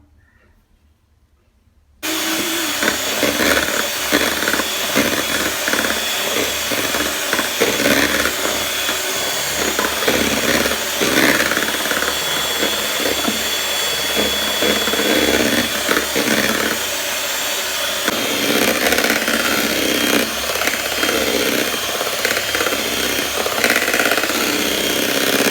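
An electric beater whips half a cup of whipping cream for a Black Forest cake, starting after a brief quiet and then running as a loud, steady, close whirring buzz with slight rattling changes throughout.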